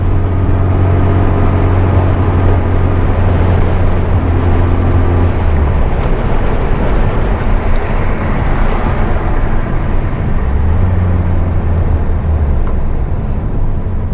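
A 1973 VW Super Beetle cruising down the road, its engine drone and road rumble loud and steady throughout, with a low tone that eases and returns as the car shifts pace.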